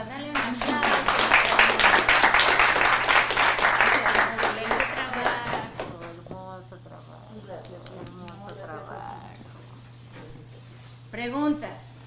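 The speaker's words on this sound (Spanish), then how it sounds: "Vamos a darle un aplauso." Audience applause in a Spanish-language regressive therapy workshop demonstration session, dense clapping filling the first six seconds, then fading into scattered voices and chatter with a brief louder burst near the end.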